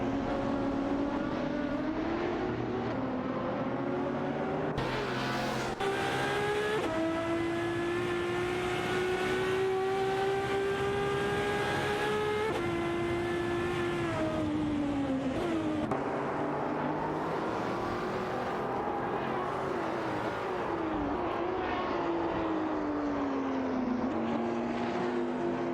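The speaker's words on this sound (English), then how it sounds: "Koki Benenity in the RAF RT12R is holding off Deep Boy TV in the same car" Racing-game cars, among them a RAF RT12R and a Ferrari 599 GTO, roar past in an AI race, their engines whining up and down through gear changes in sustained loud tones with no talking over them.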